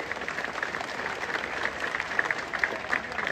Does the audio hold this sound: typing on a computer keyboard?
no